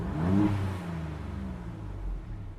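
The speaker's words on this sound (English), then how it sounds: "I'm going to rev the engine on the GT for you guys to hear the difference it has" A Maserati MC20 in GT mode gives one short rev: the engine note climbs quickly, peaks within half a second and then settles back into a steady, throaty hum near the microphone.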